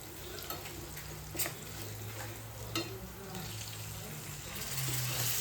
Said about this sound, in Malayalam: അപ്പോൾ ഇനി കുറച്ച് തിളപ്പിച്ചാറിയ വെള്ളം ഒഴിക്കട്ടെ.